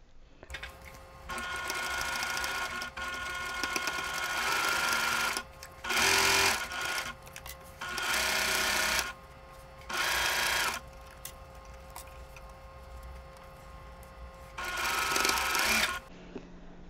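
Sewing machine stitching a pinned quilt block, a continuous run of needle-motor whir followed by several short separate bursts, close and clear with quiet handling noise between.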